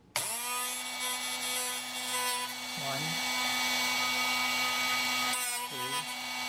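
A Drill Doctor 350X sharpener whines steadily as a drill bit is turned in it, a high continuous grinding tone with two brief dips where the bit is rotated.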